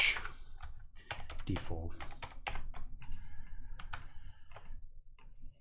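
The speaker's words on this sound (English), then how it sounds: "I'm going to type Mesh" Rapid keystrokes clatter on a computer keyboard as text is typed into a Blender text object, close and crisp in uneven bursts, with a person briefly speaking over the typing.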